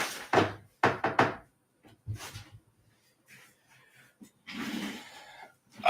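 A cabinet door is pushed shut at close range, giving a few dull wooden knocks and thuds in quick clusters. Softer rustling follows in the quiet afterward.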